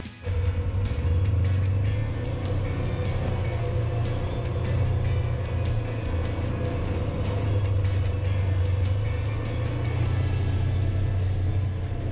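Polaris RZR off-road vehicle crawling over a rocky Colorado trail, its engine a steady, loud low rumble close by with scattered clanks and knocks throughout.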